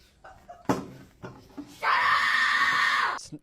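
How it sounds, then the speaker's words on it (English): A person letting out a long, loud, shrill scream lasting over a second, close by, after a few short vocal bursts and scraps of speech. "The screaming's not helping"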